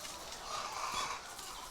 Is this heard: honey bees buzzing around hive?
no